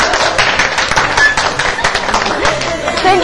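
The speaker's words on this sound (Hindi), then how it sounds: "जोरदार ताली होनी चाहिए।" Game show studio audience clapping for a contestant, a close, loud burst of rapid, uneven hand claps carrying on throughout, with voices mixed in.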